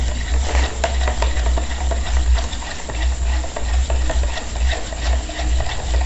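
Homemade papaya-leaf soap beaten vigorously in a container, a continuous loud churning and sloshing with a low rumble throughout and no talk.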